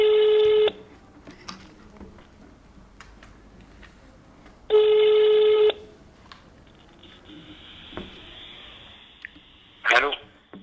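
A telephone call to a doctor: two loud ringback tones spaced several seconds apart sound through the handset, with faint background noise and a short click as the line is picked up.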